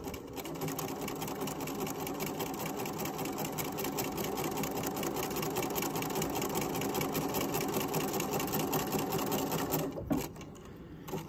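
A sewing machine runs steadily and close up, stitching right along a fabric edge to finish a seam, then stops near the end.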